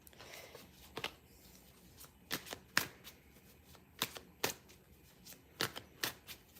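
Tarot cards are shuffled quietly at close range, with a series of sharp, crisp riffles and snaps at irregular intervals over faint background hiss.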